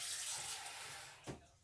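Water poured into a pan of thick sausage gravy for chicken and biscuits, a soft brief splashing trickle with a short louder gush near the end, fairly faint and with no one speaking.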